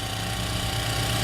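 A portable generator runs steadily at close range, a constant low engine drone with a fixed hum and mild vibration, unbroken for the whole moment with no talk over it.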